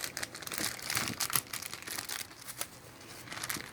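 Foam wrapping and a plastic Ziploc bag being unwrapped from a mailed package: close, bright crinkling and rustling in irregular bursts, with a few tearing sounds, with no talk.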